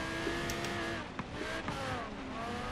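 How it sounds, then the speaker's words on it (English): Audi R8 Coupe V10 Plus 5.2 FSI Quattro in Forza Horizon 3 brakes hard for a left-hand corner and drops through the gears, its engine note falling with quick revving blips, close and loud throughout. "Braking and downshifting for that left-hander."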